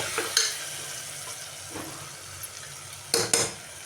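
Onions sautéing in a pan for an egg curry, with a steady low sizzle broken by a few sharp stirring scrapes and clinks near the start and end.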